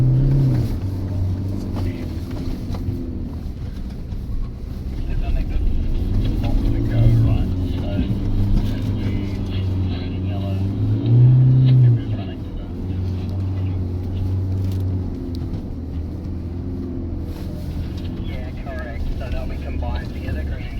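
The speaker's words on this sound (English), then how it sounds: "Who likes doing donuts?" A 2026 Toyota Hilux drives in circles doing donuts, its engine note rising and falling in a steady drone with swelling revs, and people speak over it inside the cab.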